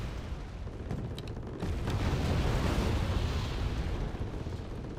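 Bombs dropped by aircraft explode in the war game Wargame Red Dragon, a dense rumbling boom that swells to a sustained roar after a few sharp pops, fairly faint overall.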